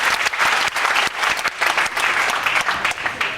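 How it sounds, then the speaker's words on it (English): A crowd applauds at a live show at Universal Studios Hollywood in 1994, giving loud, dense, sustained clapping with some uneven pulsing throughout. "Give him a nice round of applause, everyone."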